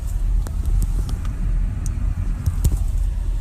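A car rolls slowly through a residential neighborhood beside a golf course, its low engine rumble and tire noise steady and close throughout, with a few faint higher clicks scattered over the drone.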